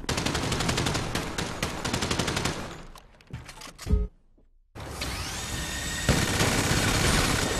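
Bursts of rapid gunfire in the video game GTA V during a bank shootout, loud and dense for a few seconds, then a brief lull with scattered thumps before sustained firing resumes.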